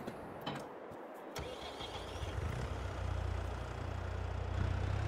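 A tractor engine in Farming Simulator cranks and catches, then settles into a low, steady rumbling idle that swells slightly, close and continuous with no talk.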